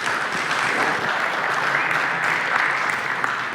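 Audience applause for a speaker at a talk on industrial protocols, a dense, sustained clapping that holds steady and close throughout.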